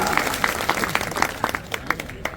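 A crowd at a Viksit Bharat Sankalp Yatra rally in Lahar claps steadily, loud dense applause with rhythmic sharper claps standing out.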